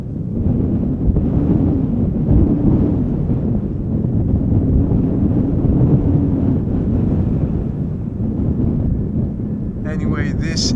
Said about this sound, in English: It is a bit more windy than anticipated.